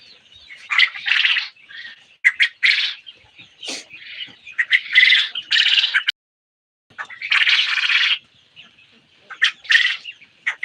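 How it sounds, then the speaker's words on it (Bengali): Japanese quails calling inside a quail farm shed during a power cut, a flock giving repeated harsh chirps and squawks in bursts, close and fairly loud, with brief pauses between calls. "ভাই এটা হচ্ছে জাপানি পাখি জাপানি এটা জাপানি"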